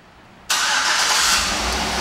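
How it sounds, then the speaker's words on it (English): A 2010 Chevrolet Tahoe LT SUV engine fires up via remote start after a quiet moment, catching abruptly and settling into a loud, steady idle nearby. "And starts the car right up."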